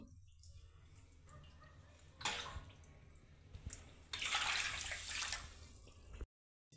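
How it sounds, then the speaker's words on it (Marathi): Finger millet grains rubbed and washed by hand in water give soft, close sloshing and swishing in quiet bursts, with a louder stretch of splashing near the end before abrupt silence. "नागली धुताना व्यवस्थित अशी चोळून धुवायची"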